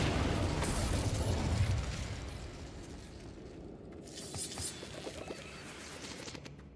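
A fire spell cast in Hogwarts Legacy erupts as a loud, roaring burst of flame that holds for a couple of seconds and then fades into softer crackles and small pops.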